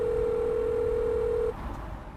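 A steady, loud telephone dial tone holds for about a second and a half, then cuts off abruptly and leaves a quieter line hiss.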